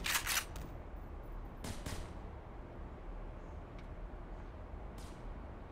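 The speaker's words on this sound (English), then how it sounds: "I can hear someone missing their shots" Enemies fire guns in Black Mesa, heard as a few sharp distant cracks spread apart over a steady low ambient hum.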